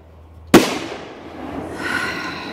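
A consumer artillery mortar shell firework, fired from a drone, bursts in one sudden, loud, close bang, followed by a fading rumble and a rising crackle.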